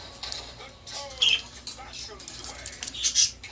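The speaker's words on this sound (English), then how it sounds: "I have a new cockatiel." A cockatiel gives two short, sharp squawks a couple of seconds apart, close and fairly loud over a quiet indoor room, with a few softer chirps in between.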